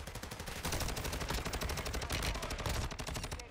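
Rapid automatic gunfire from a gun in Warzone 2 rattles off in a dense, continuous burst of sharp shots, fairly quiet and steady throughout.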